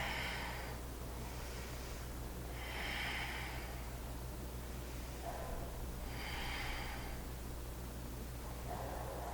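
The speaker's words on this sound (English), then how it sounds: "Take a couple of nice deep breaths" Slow, deep breaths drawn in and pushed out through the nose during a yoga bridge pose, four audible breath cycles at a calm, even pace over soft background hiss.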